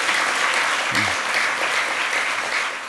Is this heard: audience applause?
yes